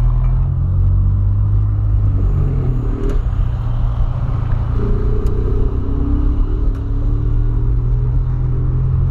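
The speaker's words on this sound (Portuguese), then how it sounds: "Vamos gravar esse horário pra vocês verem aí como que é o trânsito." A car cuts through city traffic with a steady, loud engine rumble and road noise heard from inside, the engine note rising and falling slightly as it accelerates.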